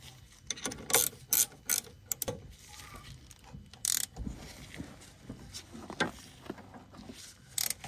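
Sharp ratchet clicks come in quick bursts as brake bolts are tightened on the front brakes of a Peugeot 207 SW 1.6 HDi, close by over a low background hum.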